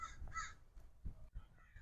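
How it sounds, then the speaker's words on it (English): Crows caw outdoors, a few faint hoarse calls in quick succession against low background rumble. "The crows are enjoying it."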